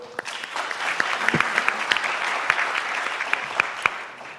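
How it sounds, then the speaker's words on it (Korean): An audience applauds at a Seoul digital bio city conference on the bio industry: a dense, steady wash of many hands clapping at close range, with sharper individual claps cutting through and no talking. "큰 박수로 응해 주십시오"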